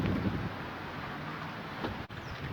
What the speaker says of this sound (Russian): Сегодня очень ветрено